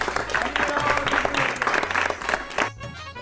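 A class of schoolchildren claps to welcome two new girls, Meena and Usha, a brisk burst of many small hands that fades out abruptly near the end.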